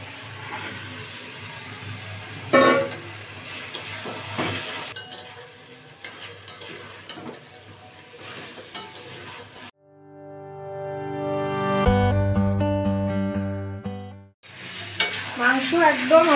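Marinated chicken with tomato sizzles and is stirred in a pan for a chicken curry with ol (elephant foot yam), steady frying with utensil scrapes, then a short musical interlude before the sizzling returns.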